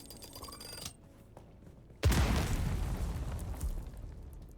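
A bomb goes off inside a cave in the video game Dune: Awakening: after a few quiet clicks, one sudden loud blast and a roaring, rumbling aftermath fill the rest.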